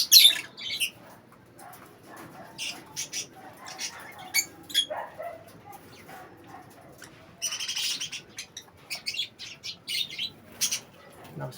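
Parakeet chicks in cages chirp and squawk in a busy, continuous chatter, with occasional wing flutters and faint voices in the background.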